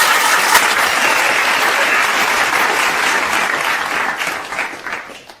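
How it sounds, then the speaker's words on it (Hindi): Enthusiastic audience applause during a school quiz contest, a dense burst of many hands clapping close and loud that slowly tapers off toward the end. "एक और जोरदार ताली इनके लिए लगाइए"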